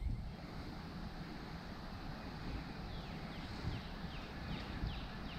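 Small outdoor creek flowing at a fishing spot, a steady broadband wash of moving water with wind buffeting the microphone, continuous and fairly close throughout.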